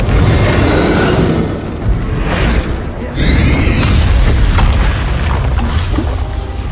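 Explosion spells Confringo and Bombarda cast in the Hogwarts Legacy video game, heavy booming blasts and rumbling bursts one after another, loud and close with a bright magical whoosh in the middle.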